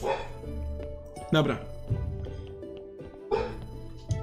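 A dog in the video game Graveyard Keeper barks and yips in short bursts at irregular intervals, heard over game music and tones while someone speaks.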